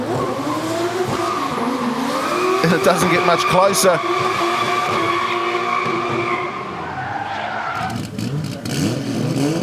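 Drift cars in a D1NZ Drift Series round at Mt Smart Stadium skid and squeal their tires through a run, engines roaring loudly and continuously under excited commentary.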